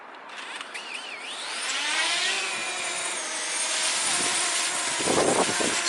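A DJI Mavic Mini drone flies after a hand launch, giving a steady whirring propeller buzz whose pitch rises and wavers, close and fairly loud throughout with no talking.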